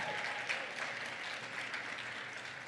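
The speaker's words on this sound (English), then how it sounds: "Give yourselves a round of applause." A short burst of steady, dense audience applause rises from the crowd at the Nevada People's Presidential Forum in Las Vegas, continuous clapping with no talk over it.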